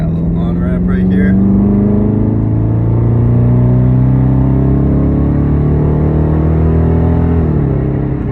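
V8 car accelerating up a highway on-ramp, a loud, close engine note climbing steadily in pitch through one long pull, with a brief shift near the end.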